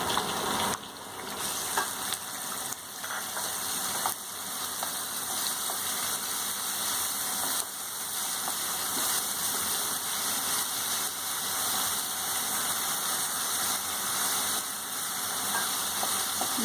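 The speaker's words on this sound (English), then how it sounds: "fry a little bit in this oil. Then with this we'll put our chopped onion" Chopped onion fries in hot oil with a steady, even sizzle that carries unbroken from start to finish, close and fairly loud, with no voice over it.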